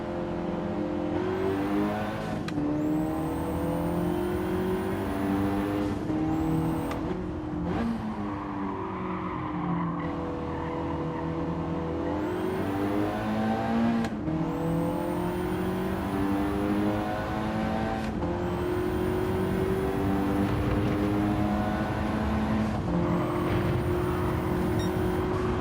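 A Ford Focus Cosworth race car in Gran Turismo 7 drives continuously with a steady engine drone. The revs rise and fall through repeated gear shifts and throttle lifts, with light tire noise, and nobody talks.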